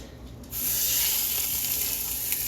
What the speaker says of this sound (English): And then I'm going to add the meat right to the pan.